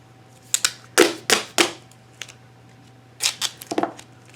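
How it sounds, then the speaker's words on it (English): Tape being pulled and pressed down on the four sides of a photo print, giving several short sharp tearing and tapping bursts, close up and with no voice over them. "So we're taping those down."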